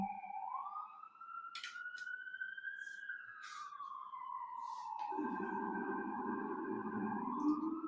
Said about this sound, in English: Who can tell me if that is an ambulance, a fire truck, or a police car in New York City?